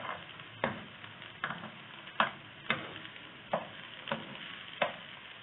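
Turnip chapli kebabs fry in a little oil over low heat, giving a soft steady sizzle with a run of sharp regular taps about every half second, close and quiet.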